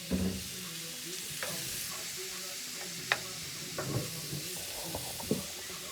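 Seasoned shrimp frying in a pan over medium heat for chicken and shrimp Alfredo, with a constant soft sizzle and several scraping and clinking knocks of a utensil against the pan, close by and without talk.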